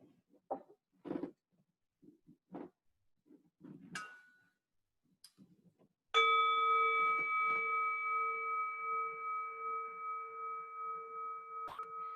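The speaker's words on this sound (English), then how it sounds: "Let the sound of the bell bring you into the present moment, just by listening to the sound." A few faint knocks and shuffles, then a single clear meditation bell strike that rings on with a long, slowly fading tone in a quiet room.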